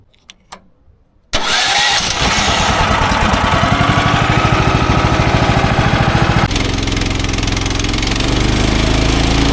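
A sawmill engine without fuel cranks loudly and steadily right up close, a continuous rapid chugging that churns on for several seconds without catching, shifting tone near the end.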